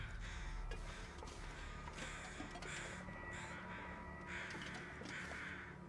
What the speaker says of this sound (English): Okay, well, we got crows.